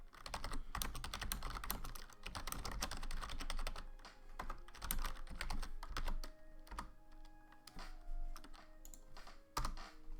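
Rapid, close computer keyboard typing in bursts of crisp clicks, dense at first and then sparser with pauses, with a faint steady tone in the background and no talking.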